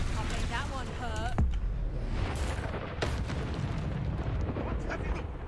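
Confringo fire spell bursts and booms in Hogwarts Legacy combat, a dense roar of explosive impacts with sharp cracks near 1.4 and 3 seconds, loud and continuous alongside other battle effects.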